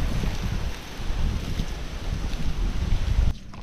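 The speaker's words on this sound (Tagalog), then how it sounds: "naramdaman na naman natin ang lakas ng hangin ngayon dito sa Campanalig" Strong wind buffets the microphone outdoors in Campanalig, a loud, continuous low rumble with gusty surges that cuts off abruptly near the end, with no voices present.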